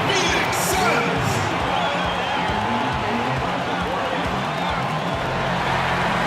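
A dense, steady roar from an arena crowd at a Phoenix Suns home game against the Lakers in NBA 2K19, loud and continuous throughout, with voices mixed into the noise.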